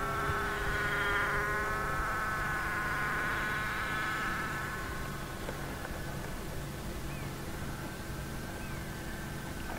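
An RC model plane's electric motor winds up to full throttle for takeoff, producing a high, buzzing whine that rises in pitch and then recedes as the plane pulls away, leaving a fainter drone over outdoor hiss.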